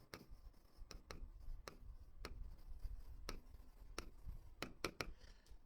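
A pen scratches on paper in a quiet room while working a Class 7 math solution, with sharp, irregularly spaced ticks and strokes, soft and close, no talking heard.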